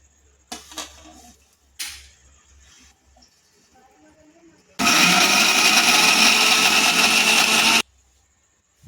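A kitchen mixer grinder whirs loudly for about three seconds as it grinds chillies, cumin, onion and garlic into a paste, after a few faint clicks and knocks, then stops abruptly.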